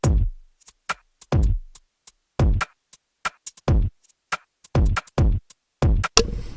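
Unmixed drum beat programmed in FL Studio, with booming kick hits, sharp snares and ticking hi-hats in a sparse, syncopated pattern, played clean and fairly dry with no talking.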